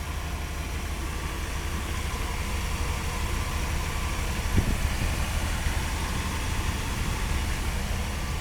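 A 1996 Chevrolet Suburban engine, fresh K&N air filter, idles steadily as a smooth, continuous low rumble, with a brief small knock near the middle.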